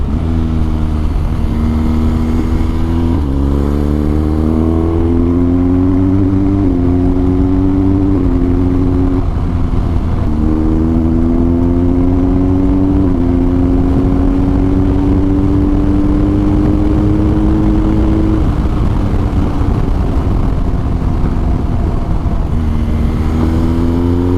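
A BMW R1250 GSA motorcycle engine while riding, loud and continuous, its pitch climbing repeatedly through several gear shifts, alone with no voices.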